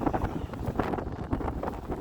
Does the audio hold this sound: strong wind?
yes